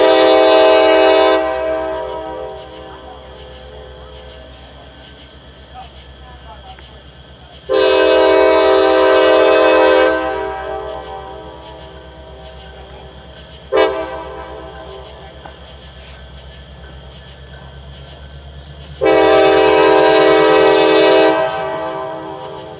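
Freight train 19M in central Ohio sounds its horn in a long, long, short, long pattern. Loud, close blasts ring out over a steady low rumble of the passing train.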